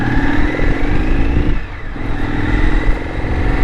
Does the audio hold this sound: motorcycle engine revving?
yes